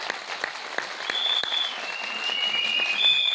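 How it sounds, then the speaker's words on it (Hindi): Audience at an indoor sales meeting giving applause, a dense, steady patter of many hands clapping, fairly close and sustained throughout with a few whistles. "एक जोरदार ताली होना चाहिए आपके लिए।"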